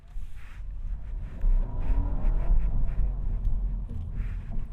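Petrol engine of a 2025 Honda Civic Sport Touring hybrid kicking on under load, a steady low drone that swells and grows louder partway through and holds, with no talking.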